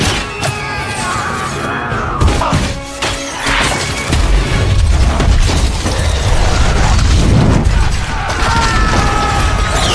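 An oil bag explodes on a battlefield in a film, with a rumbling boom and crashing debris amid layered action-scene noise and music.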